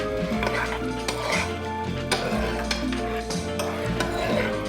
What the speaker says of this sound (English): probably need to grab a spoon, stir this shit